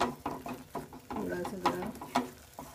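Rajma kidney beans tipped into a pan and stirred, giving soft, irregular scraping and clinking knocks with a faint sizzle, close by and fairly quiet, with a few louder spoon strikes near the end.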